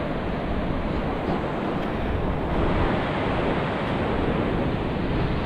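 Sea surf on the beach at Udupi, Karnataka, makes a continuous, dense broadband wash at steady loudness, with no distinct voices over it.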